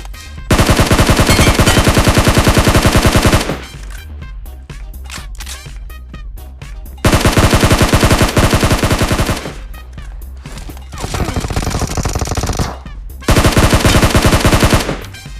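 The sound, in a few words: gunfire in the video game BGMI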